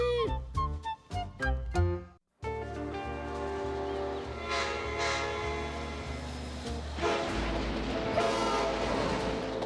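A train sound in a cartoon, meant as the Orient Express: sharp horn-like blasts at the start, a brief gap, then a steady rumbling, clattering run with a hissing rise near the end.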